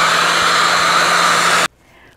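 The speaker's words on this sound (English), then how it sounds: "I'm going to just use my hairdryer to dry up the inside now." A loud, steady hair dryer blows close by on a watercolor painting for about a second and a half, then cuts off abruptly, leaving quiet.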